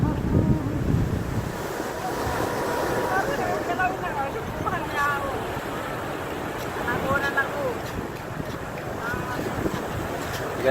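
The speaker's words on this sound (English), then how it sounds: "I want to get some waves over here." Ocean waves washing onto a shore in the Philippine Islands, with steady wind rumbling across the microphone and people talking close by over the surf throughout.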